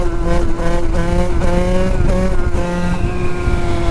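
A tuned 50cc moped engine revs hard, its high buzzing whine rising and dropping in repeated bursts, loud and close with a constant harsh exhaust drone.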